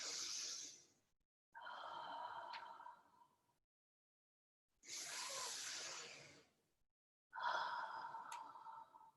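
Slow, deep breaths during a yoga session: two long exhales and two inhales alternating, each a soft airy hiss lasting a couple of seconds with quiet pauses between, close and gentle.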